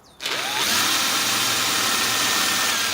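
A power drill with a bit bores steadily into a hard coconut shell for a homemade bird feeder; after a brief start the loud, continuous whine holds close and even to the end, with no talking.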